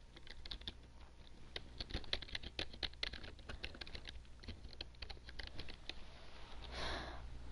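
Rapid clicking of a Rosewill computer keyboard, an uneven stream of close, crisp taps with brief pauses, quiet and without voices.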